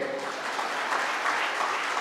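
A school annual day audience claps together, a dense, sustained burst of applause that fills the hall for about two seconds.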